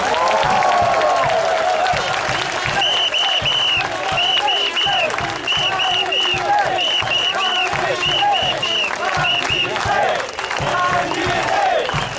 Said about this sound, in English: a rousing applause for Mr. Jee Say